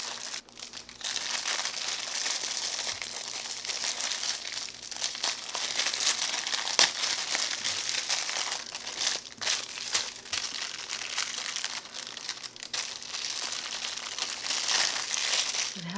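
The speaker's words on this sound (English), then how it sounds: "Yes, you need to get yourself a colorful rainbow mesh stress ball. So let's get to squeezing." A colorful rainbow mesh stress ball filled with rainbow beads being squeezed, giving a steady close-up crinkling, squishing rustle that continues without a break.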